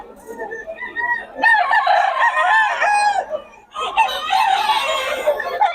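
A young white claret rooster (stag) crows loudly and close in two long bursts, with clucking and softer calls in between and a voice faintly present.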